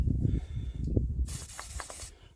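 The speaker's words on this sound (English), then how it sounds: "Put a good old bit of maintenance spray around them." Maintenance spray hissing from an aerosol can in a short burst around the spark plugs of a Barford and Douglas engine, close and bright, after some low handling noise.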